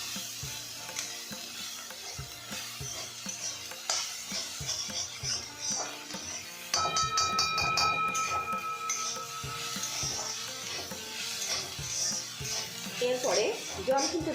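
Sajna flower curry with ginger being stirred in a hot pan, a steady soft sizzle with scraping and clinking of the spoon, while someone talks over it.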